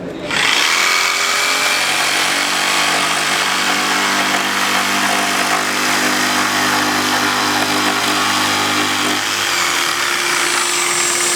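A Mafell jigsaw mounted upside down as a table saw cuts OSB board, a loud, steady buzzing whine running nearly continuously and close up, its pitch shifting slightly near the end.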